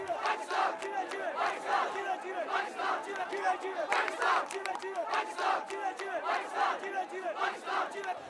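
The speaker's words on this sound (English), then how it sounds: "For the next few minutes there was chaos as a fist fight broke out within the crowd" Dense crowd at a Kashmiri political rally shouting slogans in rhythmic bursts amid a fist fight, many voices yelling together continuously and loudly across the whole stretch.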